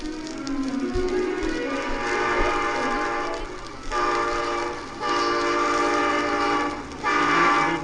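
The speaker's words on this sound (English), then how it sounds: "A train!" A train rumbles past with a sustained horn blaring in long, loud blasts over the clatter of the wheels.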